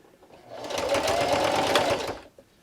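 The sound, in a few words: sewing machine sewing a straight stitch with backstitch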